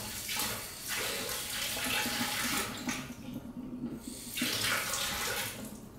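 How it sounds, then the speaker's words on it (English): Tap water runs into a sink, rinsing cinnamon off the roots of an orchid, a steady broadband splashing that surges in two bursts with a brief dip between, close and fairly loud with no talking. "I'm going to take this to the sink right there, and I'm going to rinse that cinnamon off."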